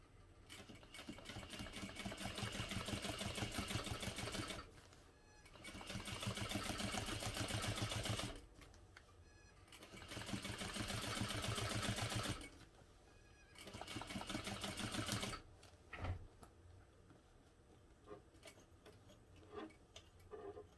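A sewing machine runs in three long bursts of rapid stitching around the bottom panel of a unisex tote bag, each burst separated by short pauses, followed by scattered clicks and handling noises.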